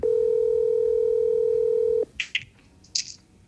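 Telephone dial tone held steadily for about two seconds, then cut off by a few short dialing beeps as a phone call is placed, clear and close.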